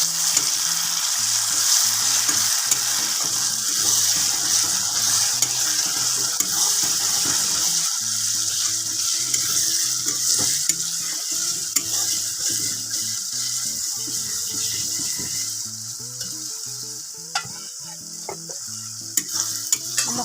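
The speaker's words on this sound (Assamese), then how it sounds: "5 মিনিটমান ভালকৈ গেছটো কম কৰি মছলাখিনি ভাজ খাব দিম" Masala spices for chicken fry in a pan with a steady, close sizzle, punctuated by repeated stirring scrapes and clatter throughout, with no voices.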